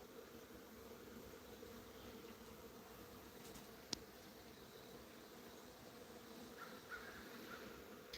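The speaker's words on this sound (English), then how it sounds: "This is the hum of the bees." Bees hum outdoors in a faint, steady, continuous drone, with one sharp tick partway through and no voices.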